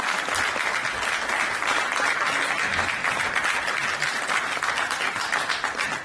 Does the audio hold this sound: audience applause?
yes